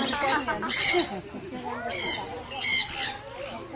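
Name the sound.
bird calling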